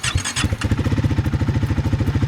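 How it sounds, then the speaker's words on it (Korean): A Triumph 400 single-cylinder liquid-cooled motorcycle engine cranks briefly with a whirring starter, then catches and settles into a steady, close, rhythmic low-rpm idle pulse. "시동을 한번 걸어보겠습니다."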